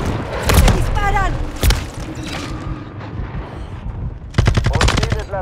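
Machine gun fire in the video game Call of Duty Modern Warfare 3, loud close bursts that come at the start, again briefly, and as a rapid volley near the end, with a voice and game chatter heard between them.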